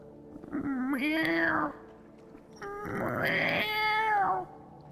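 A mangy, yellow-eyed piebald cat in the game Sunless Sea lets out two long, drawn-out wailing meows, close and loud, with a pause between them.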